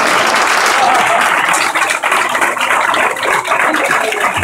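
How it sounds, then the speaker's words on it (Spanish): Applause at a Christmas gala in a residential and family centre, honouring the men of Mensajeros de la Paz: dense, sustained clapping from a crowd filling the room, steady and loud throughout with a few faint voices underneath. "Un gran aplauso para los hombres de Mensajeros de la Paz."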